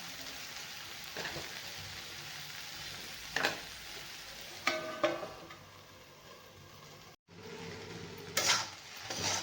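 Okra frying in peanut oil with garlic in a pan, a steady close sizzle with soft crackles and a few louder spatula stirs, the sizzle briefly cutting out and then returning.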